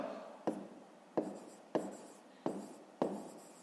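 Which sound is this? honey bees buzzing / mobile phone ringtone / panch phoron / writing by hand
writing by hand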